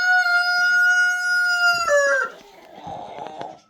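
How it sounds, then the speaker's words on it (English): A rooster in a homestead chicken barn crows loudly and close with one long sustained call, followed by softer clucking and rustling from the hens. "Chicken's coming out. All right, hop down, ladies."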